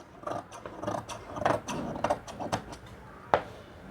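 Scissors cut through blouse fabric in a quick series of crisp, rhythmic snips close up, with one sharper snap near the end.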